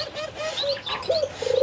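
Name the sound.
birds, pigeons cooing and chirping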